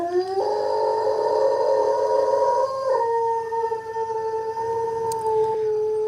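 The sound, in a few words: dog howling at siren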